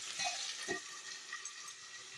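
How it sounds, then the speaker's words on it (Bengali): Chicken pieces frying in hot oil for a Bengali curd chicken dish give a steady high crackling sizzle with a couple of soft knocks, close and fairly quiet, with no talk. "বাকি যে কিছুটা চিকেন আছে সেটা আমি এখানে তেলের মধ্যে দিয়ে দিচ্ছি ফ্রাই হওয়ার জন্য"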